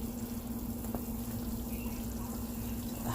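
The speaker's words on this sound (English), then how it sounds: "Here it's starting to boil. You can even start to see the bubbles starting to come up." A sugar mixture for pecan brittle boils in a pot, giving a steady, close hiss of bubbling with a constant low hum underneath and no talking.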